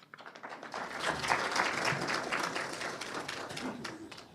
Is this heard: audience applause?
yes